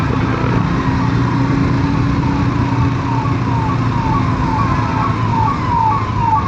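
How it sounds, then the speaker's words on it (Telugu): An ambulance siren wailing in traffic, loud and close, its repeating sweeping tone cycling steadily over engine rumble and road noise, with no talk. "అంబులెన్స్ సైడ్ ఇచ్చేయండి రా బాబు"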